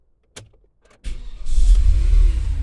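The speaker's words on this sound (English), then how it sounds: "Engine started." A 2011 Porsche Cayenne Turbo engine starting: a brief starter click, then the engine cranks and catches about a second in, settling into a loud, steady low idle close by.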